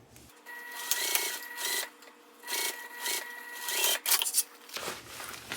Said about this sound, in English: Let's just sew across about 1/8 of an inch away to close up this opening.